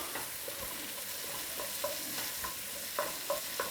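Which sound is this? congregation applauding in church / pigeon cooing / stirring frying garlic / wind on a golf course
stirring frying garlic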